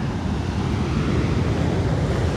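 Surf rolling onto a small hidden beach at Puerto Escondido, Oaxaca, Mexico, a steady broadband wash of waves mixed with wind rumble on the microphone, loud and continuous with no voices.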